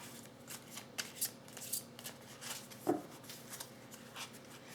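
Tarot cards slid and drawn from a deck during a reading, a series of soft papery flicks and rubs at uneven intervals, close and quiet, with no talking.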